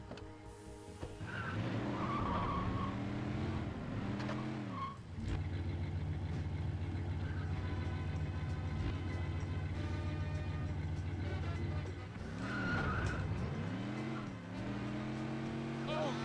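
A car in the Scarface video game driving hard with a steady engine drone and several long tire squeals and skids as it corners, loud and close, while someone talks over it.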